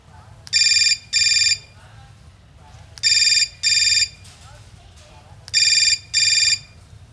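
A telephone rings in repeated double bursts, three pairs of bright electronic rings, fairly loud and close, over a low background hum in an indoor domestic scene.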